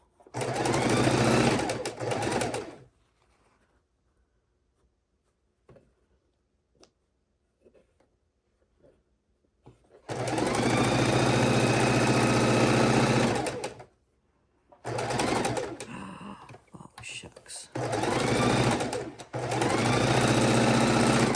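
Sewing machine stitching quilt strips in fast, loud bursts of whirring needle action, three long runs separated by quiet pauses with faint handling clicks of fabric.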